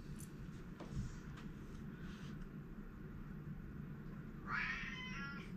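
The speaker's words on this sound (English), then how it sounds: "The kitty wants out." A cat meows once, faint and fairly distant, near the end, over a low steady background hum.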